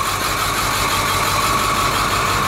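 A 2001 International CE200 Type C school bus's T444E diesel engine idles with a steady, loud, even rumble and no talk over it.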